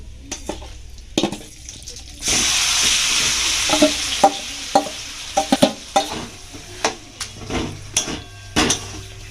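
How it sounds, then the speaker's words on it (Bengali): Cabbage sizzles loudly in hot oil in a pan after Kashmiri chilli powder goes in, with a steady frying hiss and repeated scraping, clattering strokes of a spoon stirring it. "এটা নেড়ে নেব তেলের মধ্যে ভালোভাবে এটা নেড়ে নেব"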